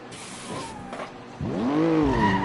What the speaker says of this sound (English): Listen to my car when it starts